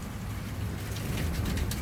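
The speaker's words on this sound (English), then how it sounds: "It was raining so hard." Heavy rain pours down in a dense, steady hiss with low rumbling underneath, continuous and fairly loud for the whole short stretch.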